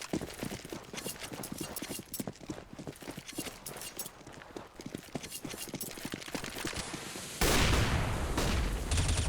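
Rapid bursts of rifle fire from Counter-Strike: Global Offensive on the Dust2 map, a dense clatter of shots and footsteps running continuously, swelling into a louder, harsher stretch near the end.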